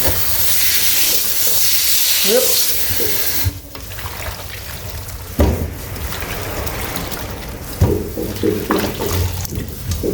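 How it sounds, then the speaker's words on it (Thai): Running water rinses kaffir limes being prepared for Thai candied kaffir lime, a steady hiss for about three seconds followed by intermittent splashes and wet clunks, close and fairly loud. "เสร็จแล้วเราก็ล้างน้ำออก"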